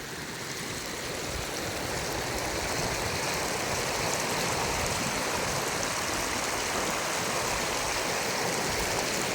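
Rainwater rushes along after a heavy downpour of several inches. The flow makes a continuous, loud, even roar of water from start to finish, with no voices.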